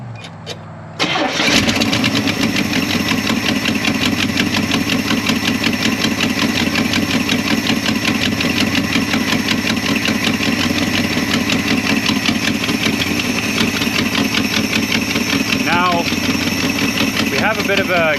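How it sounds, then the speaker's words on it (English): A 1975 International 200 with an automatic transmission, its manifold gasket leaking exhaust, cranks briefly and fires, then settles into a loud, steady rumbling idle that runs on for many seconds. "Now let's fire it up and see what happens."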